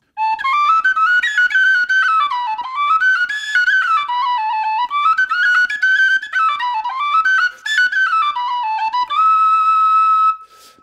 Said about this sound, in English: penny whistle